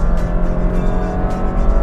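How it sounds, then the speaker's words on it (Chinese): A Honda City Hatchback RS under hard acceleration, its engine a loud, steady drone with a low rumble and faint tyre and road roar, close and continuous with no voices. "一脚油门下去， 贴飞"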